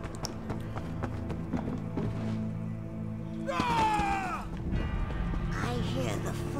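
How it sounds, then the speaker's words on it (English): In the fantasy game Elder Scrolls Online, light, regular footstep taps patter under game music and character dialogue, followed by a brief sweeping tonal effect. "I hear the footsteps of an outsider"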